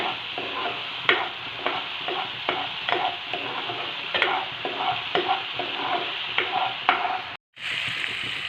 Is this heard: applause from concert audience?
no